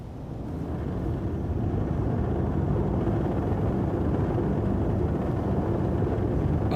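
Spaceship engines in Star Citizen spinning up and launching, a steady low roar that swells over the first second and then holds loud and constant.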